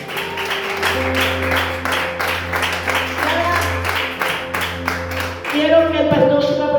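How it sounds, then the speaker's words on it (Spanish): Congregation applause in a church, a sustained round of clapping over a steady low hum and sustained music tones, with a voice speaking near the end. "Dale un aplauso al Señor."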